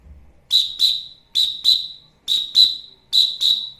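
A wooden-ball whistle imitates a cricket's chirp for children's music lessons, giving four pairs of bright, trilling chirps, close and loud with short pauses between each pair.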